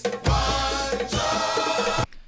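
A looped bonus track at the end of a vinyl rip of an album plays as a dense, full-band musical passage with a deep bass hit, briefly dipping mid-way before cutting off abruptly near the end.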